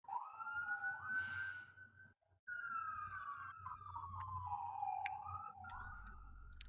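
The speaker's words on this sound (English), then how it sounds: "How am I going to sleep without the roar of sirens outside my window" A wailing siren rises and falls in long sweeping tones, with a second siren layered in, steady and fairly loud over low traffic rumble.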